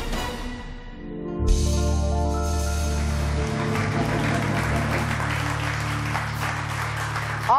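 Studio audience applause on a live Turkish daytime TV show, rising abruptly into sustained clapping over loud music with a strong low beat, continuing at an even level to the end.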